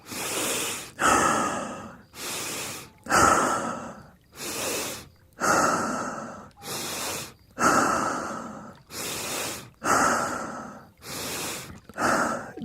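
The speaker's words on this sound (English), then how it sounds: "First, you release the dead air or dead prana with a gentle hissing noise" Slow, gentle hissing exhalations during a meditation breathing exercise, about ten long breaths in a steady rhythm, close and clear with no talking.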